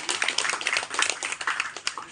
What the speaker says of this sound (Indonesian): Tepuk tangan dulu yang keras gitu ya.